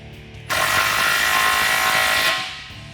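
Exhaust fasteners are tightened during a Flowmaster American Thunder cat-back exhaust install on a 2009-2014 Dodge Challenger 5.7L, heard as one loud, close, continuous power-tool whir lasting about two seconds that then fades, with no talking.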